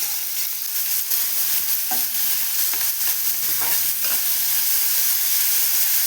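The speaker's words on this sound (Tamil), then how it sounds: "எண்ணெய் சூடானதும் வெங்காயம் சேர்த்துக்கலாம்." Onions fry in hot oil in a pan for an egg gravy, a constant close sizzle with several spoon stirs and scrapes scattered through, no voices.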